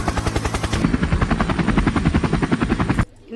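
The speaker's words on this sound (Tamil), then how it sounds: "Helicopter helicopter." Helicopter rotor thumping in rapid, even pulses, loud and close, continuing for about three seconds before cutting off abruptly.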